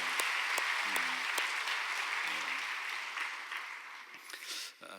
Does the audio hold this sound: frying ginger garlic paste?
no